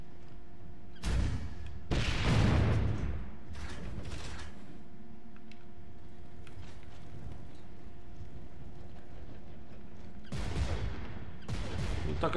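Weapon fire in the video game Gears of War 3, several short bursts of shots and blasts spread apart, with quieter mechanical clanks and game ambience between them.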